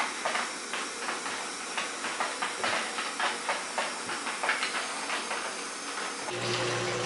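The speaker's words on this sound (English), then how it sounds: "Now I'll turn on my cold water. It'll run up through this hose, around the wort chiller," Cold tap water rushes through a hose and a wort chiller on a Robobrew V3 home-brewing setup, making a steady close hiss with soft rhythmic surges and a brief deeper shift near the end.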